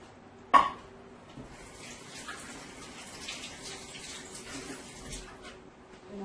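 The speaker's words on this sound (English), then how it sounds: "going to wash my hands" A kitchen tap runs steadily while hands are washed under it, a soft continuous splash with a knock at the start and faint clatter through it, close by and fairly quiet.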